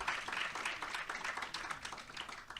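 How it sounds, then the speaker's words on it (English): Audience applause for guests being introduced at a Pennsylvania workforce event, a steady, dense wash of clapping that holds evenly across the whole moment at a moderate, slightly distant level. "please clap for these folks"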